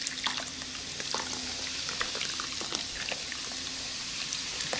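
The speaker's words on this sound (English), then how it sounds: "Now this one you just pour right in." Liquid is poured into a slow cooker over beef, making a steady, close trickling and splashing with small bubbly crackles throughout and no talking.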